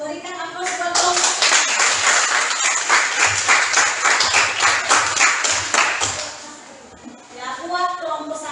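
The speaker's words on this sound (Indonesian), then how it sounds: "berikan aplaus buat kelompok." A class at a junior high school in Moro'o applauds a student group with steady, lively hand clapping for several seconds, then fading as voices rise near the end.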